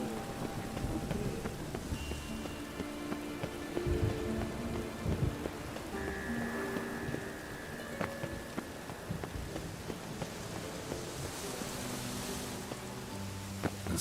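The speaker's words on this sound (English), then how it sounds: "A storm, damn it." Steady rain patters on surfaces throughout a storm, with a faint low rumble of thunder underneath, a constant fairly even wash of sound with no talking.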